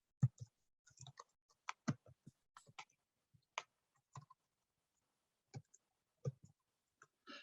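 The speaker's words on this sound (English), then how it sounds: "I'm just going to type something here." Keys tapped on a computer keyboard in a quiet room, irregular bursts of crisp clicks with short pauses between, close and clear with no talking.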